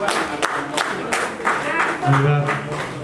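A crowd at a cooperative's annual general meeting applauds the vice-chairman, a rippling burst of clapping that swells and fades, mixed with voices speaking over it.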